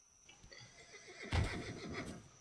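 A horse in a Wild West video game lets out a loud whinny near the middle, with a descending shaky neigh over quieter clip-clop and game sounds, no speech.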